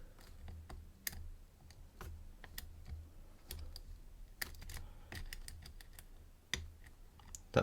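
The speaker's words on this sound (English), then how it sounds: "Pin 3 I feel binding, little click out of that." Small, quiet metallic clicks and ticks come from lock picking on a professional pinning block, scattered irregularly in near, faint taps against a low background hum, with no talking.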